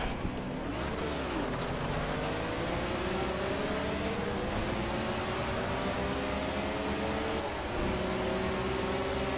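A racing car engine in a demolition derby race at Mount Panorama in a racing video game revs and climbs in long rising sweeps under a dense, hissy noise bed, continuous and fairly loud with no speech.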